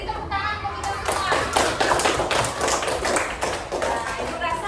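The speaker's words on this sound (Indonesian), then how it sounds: "beri tepuk tangan untuk kita semua" Children in a classroom clap their hands together in a dense, steady burst of claps that carries on throughout, with a teacher's voice talking over it.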